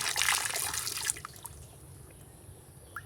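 Clear spring water running continuously close by, a steady splashing trickle that is loudest at first and then eases into a softer flow, with a few isolated drips near the end.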